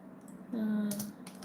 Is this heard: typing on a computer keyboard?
yes